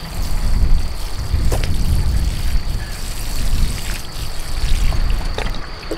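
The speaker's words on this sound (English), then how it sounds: "so I'll just pop a bit of water on them now." Water poured from a can or hose onto newly planted plants in a homestead garden, a steady splashing trickle with outdoor wind noise and a few faint knocks.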